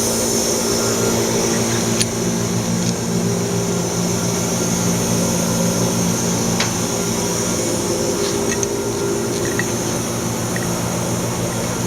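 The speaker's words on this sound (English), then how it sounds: "Pump exhaust." Vacuum pump exhaust on an Oxford Plasmalab 800 Plus PECVD system plumbed with nitrogen, a steady close mechanical drone with low tonal hum and a high whine, holding even for the whole stretch with a few faint ticks.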